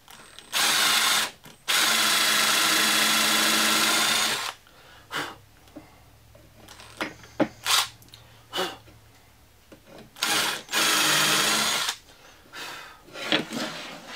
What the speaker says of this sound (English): I'm just going to put a little countersink in.